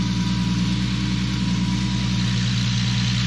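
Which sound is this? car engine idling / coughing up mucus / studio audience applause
car engine idling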